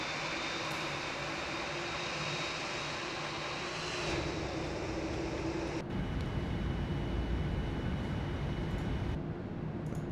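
A Boeing 787-9's engines whine at idle thrust in a flight simulator, a continuous steady airliner drone heard from the cockpit with a faint tonal whistle and small shifts in texture partway through.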